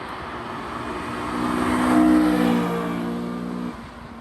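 A 1999 Honda S2000's naturally aspirated 2-litre four-cylinder revs hard toward its 9,000 rpm redline, rising to a loud, close peak midway before dropping off, with no talking.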